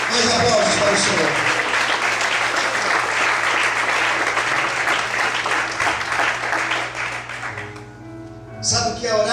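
A church congregation claps loudly and continuously, a dense wash of applause that tapers off near the end as a voice returns briefly.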